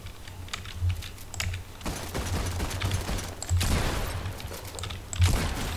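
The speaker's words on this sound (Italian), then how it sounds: "Ma sta sparando a casa" Gunfire in the Fortnite video game crackles in rapid bursts and booms, mixed with busy keyboard clatter and clicks, loud and continuous throughout.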